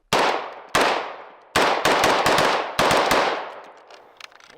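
Rapid bursts of automatic gunfire from a modified weapon in a video game: five loud, sharp volleys, the last few crowding close together, each ringing out before the next, then a brief trailing rattle, with no talking.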